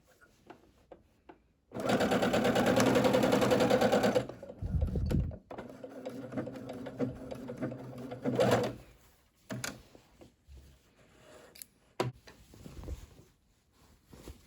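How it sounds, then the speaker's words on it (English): A sewing machine stitches the side seam and top of an Ohio Star baby quilt in a loud, steady run of about two and a half seconds, then slower, softer bursts of stitching follow with small clicks and handling noises between. "And so now I am just sewing it back together."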